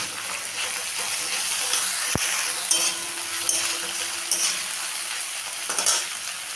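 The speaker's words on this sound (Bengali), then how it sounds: "দিলাম কাঁচা লঙ্কা কুচি, একটু ভালো করে ভেজে নেব" Chopped onion, garlic paste and green chili fry in a wok with a steady close sizzle, a utensil stirring and clinking against the metal now and then, with no talk over it.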